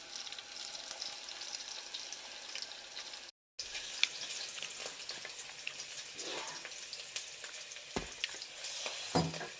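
Chicken pakora frying in darkened hot oil gives a steady, close crackling sizzle with scattered sharper pops and a brief dropout partway through.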